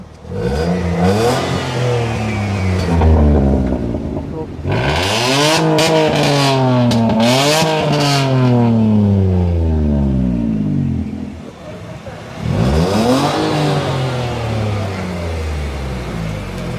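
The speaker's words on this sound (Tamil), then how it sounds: "ப்ரோ நம்ம எக்ஸாஸ்ட் சவுண்ட்லேருந்து பார்த்துருவோமா?" A modified Maruti Alto 800 in Kerala revs through its stock exhaust, climbing and falling in repeated loud throttle blips, close by, with a brief drop to idle between bursts.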